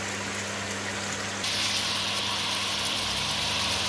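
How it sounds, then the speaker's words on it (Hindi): Chicken simmers in a pan as the water bubbles, making a steady, close, hissing fizz that grows brighter and louder after the first moments. "पानी के हमारे बबल बन रहे हैं, और हम थोड़ी देर इसको पकाएंगे"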